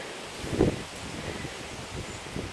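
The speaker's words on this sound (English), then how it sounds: "It's very windy, guys." Wind blows outdoors on a gusty day near a bridge, with a steady low rumble of buffeting and brief louder gusts striking the microphone.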